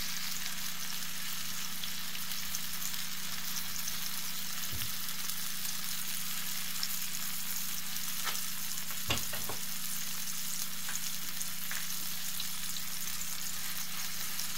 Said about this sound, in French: dans une poêle à feu doux, on dépose la face avec la mayonnaise sur la poêle